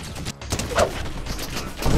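Gunfire pelts a Captain America shield during a video game mission, a dense burst of overlapping shots and impacts running steadily throughout, loud and continuous.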